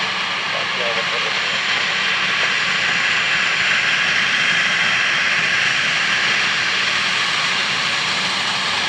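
A Ryanair airliner at Dublin Airport rolls out after landing with a loud, dense, unbroken jet engine roar, close and steady, with a faint voice briefly audible near the start.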